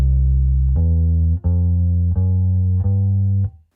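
Bass guitar playing the opening phrase of a song, a few deep sustained notes with clean attacks, loud and alone, ending in silence.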